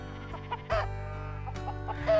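Chickens in the farming game Farm Manager 2021 give a few scattered close clucks and short squawks over a steady low background hum.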